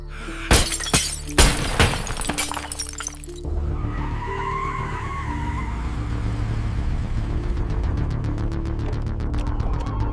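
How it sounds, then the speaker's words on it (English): Glass shatters from a car in a loud burst of sharp crashing bursts, then gives way to a steady rumbling wash with faint clicking near the end. "Then I heard glass shattering, which I knew was from my car."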